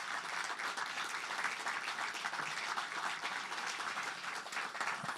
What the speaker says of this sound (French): J'aimerais que vous leviez, que les gens puissent vous donner une bonne main d'applaudissements